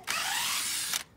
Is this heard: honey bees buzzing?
no